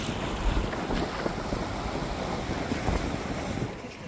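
A small boat is rocked by waves near a rocky little beach, with steady wind roaring across the microphone and the slap of surf and water running continuously throughout.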